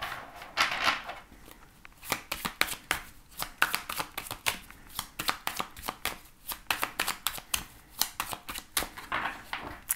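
Tarot cards riffled and cut by hand in a steady run of crisp, close flutters and soft taps, alone with no talking.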